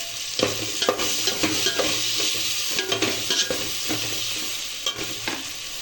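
Tomatoes with salt sauté in a pan, a continuous close sizzle broken by repeated scraping stirs and light utensil knocks at an uneven rhythm, with no voices.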